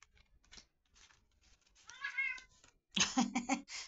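A shut-in cat meows close by, a few drawn-out cries followed by a louder, harsher yowl near the end, with faint thumps in between and no talk.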